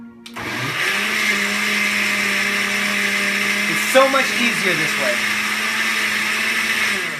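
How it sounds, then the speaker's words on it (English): A blender on chop setting runs loud and steady for several seconds, chopping tomatoes and parsley, while a voice speaks briefly over it. "put the blender on chop"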